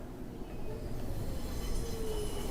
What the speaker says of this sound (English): The train glided up to the platform.